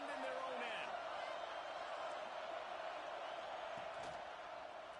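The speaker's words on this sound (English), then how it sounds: "The roar of the crowd trying to fuel this defense to keep them pinned in their own end" Steady, dense roar of a big stadium crowd at an Ohio State college football game, sustained and loud throughout with a slight fade near the end, cheering to fire up the defense.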